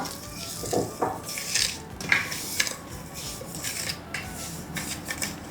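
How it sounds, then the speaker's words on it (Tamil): Semolina roasting in ghee in a pan is stirred with a metal spoon, giving irregular clinks and scrapes against the pan over a faint dry rustle, close by and without speech. "அரை கப் நெய்யில் பாதியை இதில் ஊற்றிக்கலாம் அதோட அரை கப்பு ரவையை போட்டு வறுத்துக்கலாம்"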